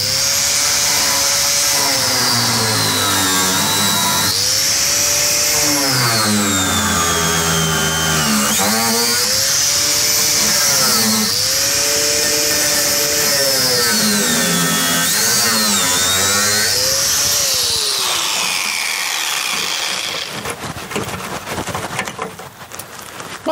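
An angle grinder run without its guard during a car wheel-arch repair whines loudly and steadily, its pitch repeatedly dipping and rising as the disc is pressed into the work, before the motor cuts to a rougher, noisier finish.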